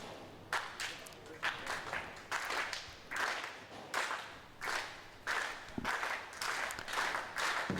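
A crowd at a professional bowling match applauds in repeated short bursts of clapping, moderately distant, with quiet gaps between them.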